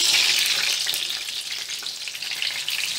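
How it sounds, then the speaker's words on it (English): Tomato frying in a hot pan used for Persian meat patties, a loud continuous sizzle close by with a little stirring. "In the same pan, I will fry the tomato also."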